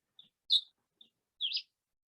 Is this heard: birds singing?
yes